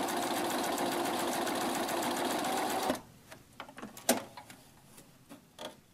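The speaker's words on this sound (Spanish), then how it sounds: "Y aquí voy a comenzar a coser." A home sewing machine stitching along the edge of fabric by the presser foot, running in a steady loud buzz for about three seconds, then stopping, followed by faint scattered clicks and handling sounds.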